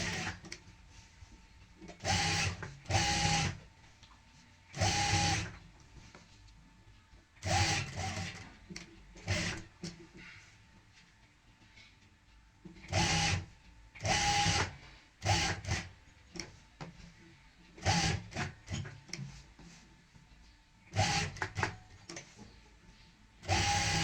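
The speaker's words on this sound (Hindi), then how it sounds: "अंदर की सिलाई कंप्लीट करने के बाद अब हम यहाँ पे बाहर की सिलाई भी कंप्लीट कर लेंगे।" Sewing machine stitching the outer seam of a half-neck collar, a series of short bursts of whirring stitching separated by quiet pauses, fairly close.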